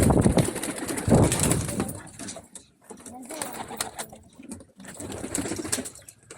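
Homing pigeons coo softly in low, rolling murmurs amid rustling and bird chatter, with a voice talking over them.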